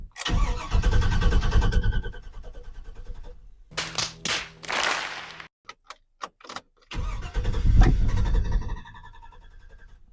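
A 2010 Chevy 6.0L V8 cranks over without firing, a loud close starter churn that runs twice in bursts, separated by a break with a few clicks and short noises.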